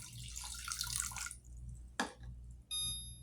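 Water drips and trickles into a pan with sugar for orange cake syrup, with a sharp clink near the middle and a steady high electronic tone toward the end.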